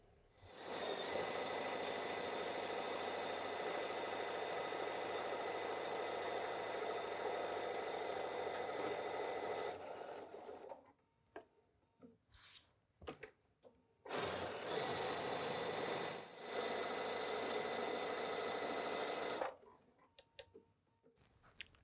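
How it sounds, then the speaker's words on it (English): A sewing machine stitches quilted fabric for a project bag, running in a long steady whirring burst of about ten seconds, then short stop-start runs with pauses, close and clear. "I'm gonna go to the machine, I'm gonna sew on my stitching line all the way around"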